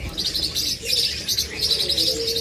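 A confirmed pair of American Yellow pet birds, caged at a bird sale, giving rapid high chirps and twitters in repeated bursts up close, with a softer cooing note underneath and no talk.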